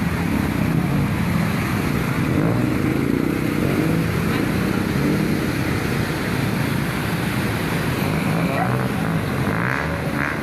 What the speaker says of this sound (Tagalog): Ayan po ang mga sasakyan.